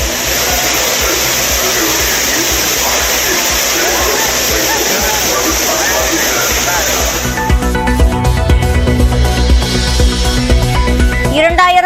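Steady broadband roar of the Courtallam waterfall where tourists bathe, loud and continuous for about seven seconds before giving way to tonal, music-like sound.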